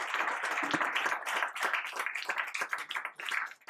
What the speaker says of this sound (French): On peut applaudir Asma.